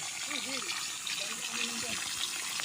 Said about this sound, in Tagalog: Yung lupa mismo ay merong bukal. Merong tubig na umaagos.